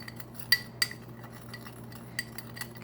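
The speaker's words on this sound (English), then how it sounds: "I'm just using my spoon to mix the cinnamon and sugar together" A spoon stirs cinnamon and sugar together in a bowl, giving a few light, sharp clinks against the dish over a quiet background, with no talking.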